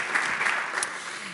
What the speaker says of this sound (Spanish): Ese aplauso para nuestros agricultores y ganaderos.